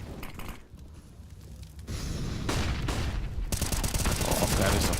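Rapid gunfire sprays in the video game Counter-Strike during a tournament match, dense crackling bursts that grow louder and more continuous toward the end, with faint commentary voices underneath.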